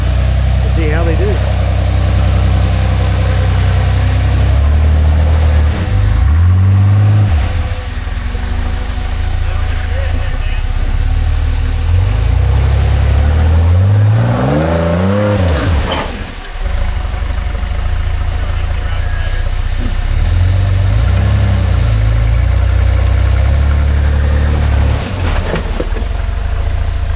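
A 2.8 liter V6 Jeep Cherokee on 513 gears works a tough trail obstacle at Walden's Ridge, its engine droning loud and close with repeated revs and swells, while people talk throughout.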